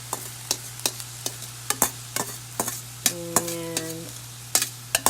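Potatoes tumble into a pan of frying peppers and get stirred, with a spoon scraping in sharp regular strokes over a steady low sizzle and a brief tonal beep midway, close and clear with no talk.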